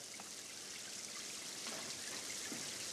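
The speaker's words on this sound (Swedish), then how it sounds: "Öka regnet lite." Artificial rain on a film set pours down as a steady, dense hiss with no gaps, fairly faint and without voices.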